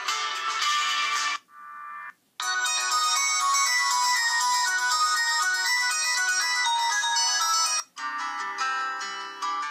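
Bright electronic phone ringtones play loud and close, a busy melodic tone sequence that cuts off briefly twice as one tune gives way to another, with no talking.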